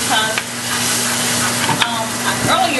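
Rinsed shrimp fry in melted butter in a hot skillet, with a loud, close, steady sizzle and a few sharper crackles as moisture hits the fat.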